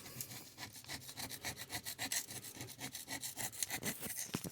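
Screwdriver scraping caked dirt off a Wheel Horse garden tractor manual transmission, a quiet, rapid series of rhythmic rasping strokes, close up and alone.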